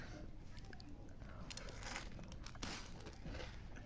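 Close, crunchy chewing of puffed rice mixed with jackfruit, steady bites and mastication in a quiet village setting with no talk.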